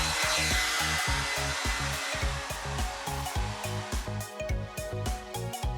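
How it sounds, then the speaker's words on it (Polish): A hair dryer blows steadily in an ASMR makeover, a dense continuous roar with a pulsing low rumble beneath it, loud and close throughout with no talking. "Suszarka do włosów i cała naprzód."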